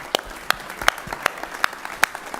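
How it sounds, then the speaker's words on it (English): Scattered clapping from a small audience at an economic development summit, a handful of distinct sharp claps spaced about every third of a second, sparse and near rather than a full roaring ovation. "How about a round of applause for all of our presenters?"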